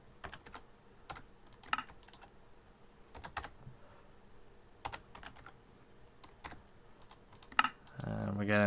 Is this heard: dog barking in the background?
no